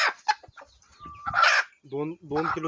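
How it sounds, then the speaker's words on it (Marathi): A desi country-breed rooster of about two and a quarter kilograms clucks in a short run of close, rhythmic calls toward the end, after a moment of indistinct voices. "आता हा गावरंग कोंबडा आहे बरं गावराम कोंबडा आहे"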